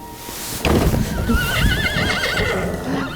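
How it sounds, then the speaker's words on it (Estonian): A Finnish horse lets out a loud, close whinny that wavers up and down for about two seconds, followed by a hoof clop and some movement noise. "Tema on Soome hobune."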